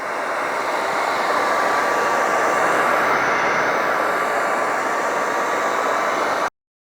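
A heat gun warming carbon fiber wrap on Toyota Supra rear canards blows a loud, constant, airy roar close by for several seconds and then cuts off abruptly, with no speech.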